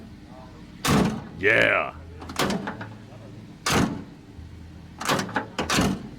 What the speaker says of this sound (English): But listen to the sound of the door.